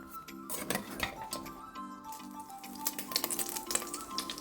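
Fried prawns being transferred from a pan into another bowl: quiet scattered clinks and scrapes of a metal utensil against cookware, close and irregular, with no voices.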